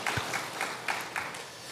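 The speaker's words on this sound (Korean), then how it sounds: "우리 하나님께 영광의 박수 올려드리겠습니다." Congregation applause during a Korean church Sunday service, a quiet, diffuse patter of clapping with a few louder bursts, heard from a distance without speech.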